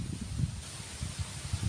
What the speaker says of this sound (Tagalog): ang lakas po ng hangin ngayon